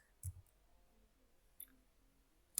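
A few isolated keyboard key clicks, sparse and fairly quiet, typed while entering an OpenStack network command at a computer, with long pauses between taps.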